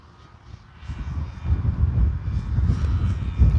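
An E-flite Sportix RC airplane flies in windy conditions, its electric motor whine faint at first, then building to a steady, moderately loud buzz mixed with low wind rumble.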